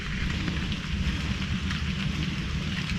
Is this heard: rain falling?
yes